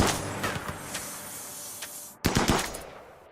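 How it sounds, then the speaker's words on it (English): Bursts of gunfire from a RimWorld colony battle in arid shrubland, several quick shots early, then a louder cluster of rapid reports near the end, no talk. "Oh, he's still trying to shoot her, even though he can't see her."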